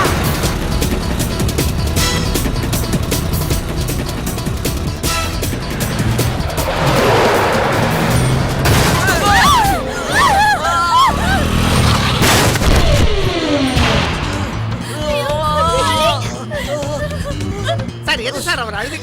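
Police open fire in a chaotic movie scene, with gunshots and booms crackling amid engine noise, shouting voices and a dense, loud soundtrack.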